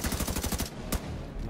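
Rapid automatic gunfire with recoil in The Division 2, a quick burst of closely spaced loud shots followed by a pause and one more crack, set against a steady game backdrop.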